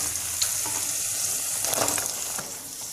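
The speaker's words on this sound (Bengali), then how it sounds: "মৌরি বা মিষ্টি জিরা আর রান্নার জিরা এক কেজি পরিমাণ চুলা কমটাতে রেখে আমি ভেজে দিলাম এবার আমি দিয়ে দিচ্ছি জলপাই" Olives dropped into a pan of fried fennel seeds and cumin for a sweet-sour olive pickle, giving a steady loud hiss of sizzling oil with faint stirring clatter, no voices.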